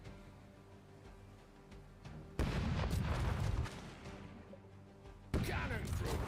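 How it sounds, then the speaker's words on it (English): A ship's cannon broadside in the pirate video game Rogue Waters, with a quiet stretch broken by two sudden loud booming volleys, each followed by a rumbling, crackling decay and game sounds. "Cannon crew, give them a broadside."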